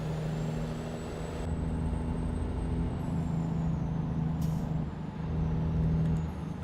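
A truck Jake brake in American Truck Simulator gives a steady, low, throaty rumble over engine drone, with a faint whistle on top and a few short hissing bursts.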